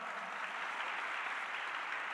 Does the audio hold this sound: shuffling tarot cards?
no